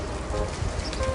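Steady rain falling outdoors beside the Bateau-Lavoir artists' studios, a continuous broadband patter with no talk over it.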